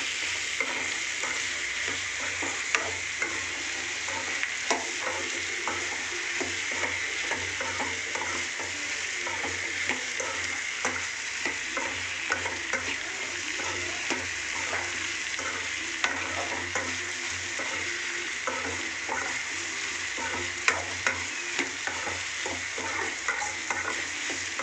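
Eggplant sautéing in an oil-filled pan for a Tamil kathirikai thokku, a steady close sizzle and crackle with faint stirring clicks throughout, no voices.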